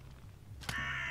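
A crow in the fantasy video game Unepic gives a single short caw, fairly faint over a low background hum, followed by a lingering tonal ring.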